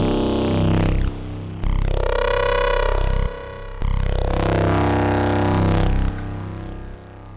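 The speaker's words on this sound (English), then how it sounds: "So it's kind of a nice growl sound" A loud synthesized growl made with FL Studio's Sytrus synth, with a robotic, wobbling tone, played in several sustained bursts separated by short gaps.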